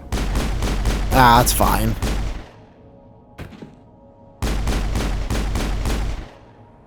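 An automatic weapon fires in the Mass Effect video game in two long bursts of quick, evenly spaced shots separated by a quiet gap, with a short spoken remark heard over the first burst.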